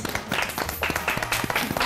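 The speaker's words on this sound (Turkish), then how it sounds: "Alkış!" A short burst of clapping from a small group on a Turkish TV cooking competition show, quick and uneven, lasting under two seconds.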